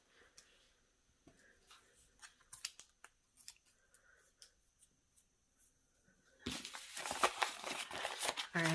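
Journal cover material gets cut, a series of close, quiet scissor snips and small handling clicks, then a louder burst of rustling and crinkling near the end.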